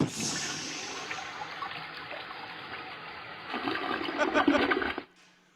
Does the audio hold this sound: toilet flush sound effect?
yes